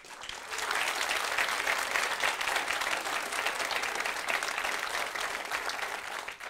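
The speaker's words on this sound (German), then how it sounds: "Auf jeden Fall dein Applaus." A live outdoor TV music show audience applauds a singer, a dense, even wash of clapping from a crowd heard at some distance, rising quickly and holding steady for several seconds before tapering.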